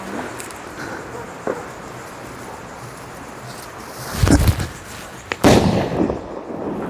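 Diwali firecracker bombs go off outdoors: after a quiet windy stretch, two heavy booming blasts land close together near the end, each followed by crackling and a brief rumbling tail, with a small pop earlier.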